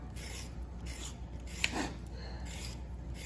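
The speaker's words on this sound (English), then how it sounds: "just take a knife and just shave it along the edge" Knife shaving the skin off a carrot along its edge, soft repeated rasping strokes in a steady rhythm, quiet and close, with no talking.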